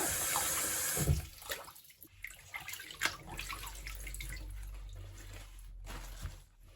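Tap water running over callaloo leaves as they are rinsed in a sink, an irregular splashing and trickling with shifting flow, a short burst near the start and a steadier stream later.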